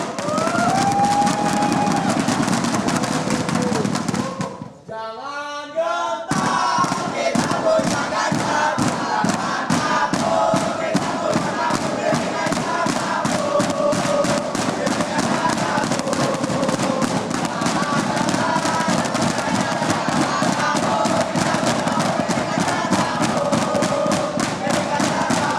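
A large crowd of political supporters at a debate chants and cheers loudly and rhythmically, with drumming or clapping beats driving the chant after a brief lull; the noise stays dense and continuous throughout.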